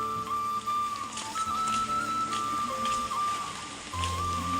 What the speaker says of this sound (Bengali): এখন কিন্তু অন্ধকার, বৃষ্টিও পড়তেছে।